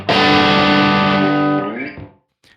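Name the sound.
electric guitar through UAD Lion Plexi amp sim with room tone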